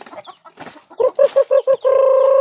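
Several egg-laying hens on an organic farm cluck in short bursts, rising into a sustained loud squawking call near the end, close by with no talk.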